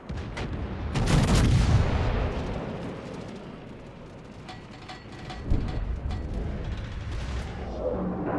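Heavy battleship guns fire in a warship video game, a deep booming salvo rolling into a long rumble and followed by a second, smaller blast, dense and loud throughout.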